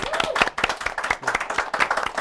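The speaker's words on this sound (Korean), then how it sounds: "오늘 수고해주신 세 분의 MC분들께 박수 부탁드리겠습니다" An audience at a Korean CEO talk event claps for three MCs, a fairly close patter of individual hand claps with uneven rhythm, moderately loud and continuing throughout with a brief voice mixed in.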